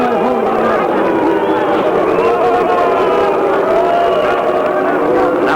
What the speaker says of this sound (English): Now the crowd is voicing some dissatisfaction with the performance